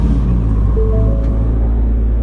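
2020 Falcon Heritage car engine starting up in the Roblox game Greenville: a steady low rumble with a short rising tone as it turns over, then a constant idle hum, heard alone.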